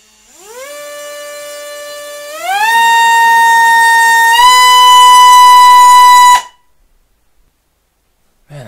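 A high-pitched Armattan Oomph 2206 drone motor spinning a 5-inch propeller whines, rising in steps to a loud, piercing scream, holds, then cuts off abruptly, leaving near silence.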